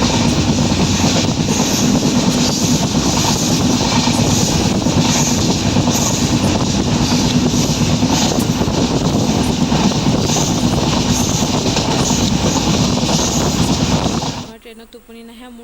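Steady rumble and rattle inside a moving passenger train, continuous and loud for about fourteen seconds before dropping away sharply near the end.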